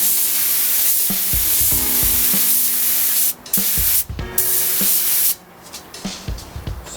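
Quick-drying spray paint hisses out in several sustained bursts as a second coat goes on, with short pauses and the can's rattle between passes, close and fairly loud.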